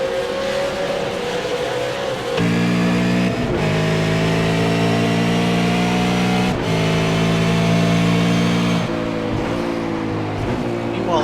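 A V8 Supercar racing at Oran Park in a sim racing game, its engine roaring loud and close as it climbs through the revs, with sharp dips at each gear change.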